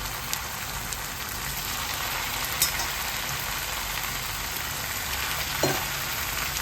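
Oyster mushrooms frying in a thick masala in oil, a continuous soft sizzle like light rain, with a few faint stirring knocks, close and quiet.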